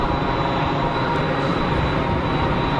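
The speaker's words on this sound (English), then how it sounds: "A couple of easyJets on the taxi" Steady, broad engine roar from easyJet jet airliners taxiing at Geneva Airport, heard at a distance as a continuous, even rumble with no talking.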